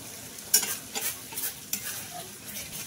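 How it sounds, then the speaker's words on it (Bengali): Masala gravy for a vegetarian fish-style curry is stirred and fried in a pan, with a few sharp spoon scrapes over a steady soft sizzle, close and moderately loud, no voices. "আরো 5 মিনিটের জন্য একটু নাড়াচাড়া করে মিশিয়ে কষিয়ে নেব"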